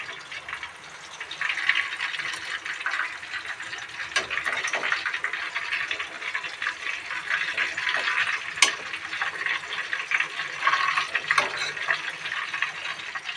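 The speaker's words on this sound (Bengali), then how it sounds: "দিয়ে হালকা গ্যাসেতে এগুলোকে ভাজতে হবে।" Food frying over a low gas flame makes a continuous, fairly loud bubbling sizzle with a few faint clicks and no speech.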